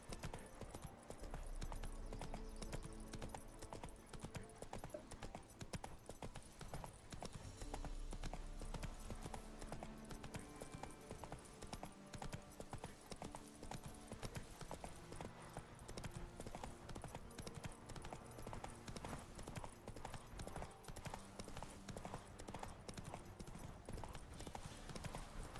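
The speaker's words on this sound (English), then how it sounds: "Run, Roach." Horse hooves clip-clopping steadily in The Witcher 3 as the mount gallops along, rhythmic and close, with game music and ambient sound layered underneath for the whole stretch.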